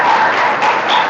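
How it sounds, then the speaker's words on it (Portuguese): A church congregation claps, loud, dense, evenly sustained applause in a short burst. "Dê um aplauso ao Senhor."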